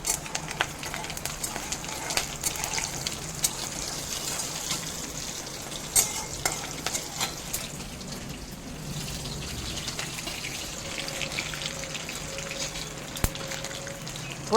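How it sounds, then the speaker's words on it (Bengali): Green chili, nigella and black mustard seeds fry in hot mustard oil, a low steady hiss with scattered sharp pops and crackles, and a faint tone near the end. "গরম তেলে দিচ্ছি কাঁচা লঙ্কা, কালো জিরে আর কালো সরিষার ফোড়ন। ফোড়নটা খুব ভালো মতো ভেজে নিচ্ছি।"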